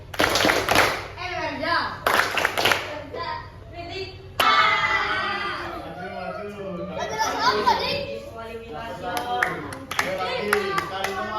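Students in a classroom perform a rhythmic clapping routine during a primary-school teaching practice lesson, with bursts of sharp group claps alternating with children's chatter and a teacher speaking throughout.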